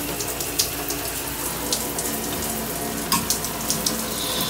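Steady, good-flowing spray from a hotel shower at a Hampton Inn & Suites in Gulf Breeze, Florida, a continuous close hiss with a few small splashes and knocks.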